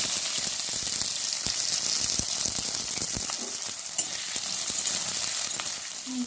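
Chopped onion sizzles in hot mustard oil with whole garam masala spices and bay leaf, a steady close frying hiss broken by scattered crackles and pops.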